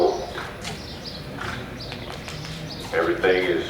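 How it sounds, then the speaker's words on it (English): A buckskin colt wearing only a halter walks out at a colt starting challenge, its hooves clip-clopping steadily beneath continuous talk, with a few bird calls in the background. "this buckskin colt has done what most starters want them to do, and that is walk out"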